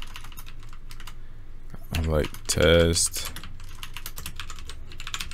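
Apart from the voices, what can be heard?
typing on a computer keyboard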